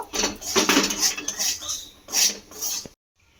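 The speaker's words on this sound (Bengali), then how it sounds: "সুজিটাকে খুব ভালোভাবে মিশিয়ে নিলাম।" Semolina stirred in a pan with a utensil: repeated close scraping and clinking strokes in uneven rhythm, pausing briefly, then falling silent at the end.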